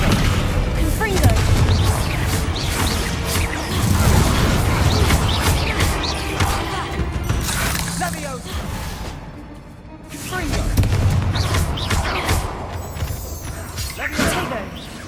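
Booming fire-blast spell impacts from Confringo in Hogwarts Legacy combat, several heavy thuds and crashes over the 15 seconds, mixed with game music and voices.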